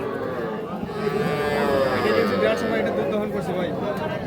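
Sahiwal cows and calves at a crowded cattle market, low drawn-out moos rising in the middle of the clip over a busy background of people talking nearby.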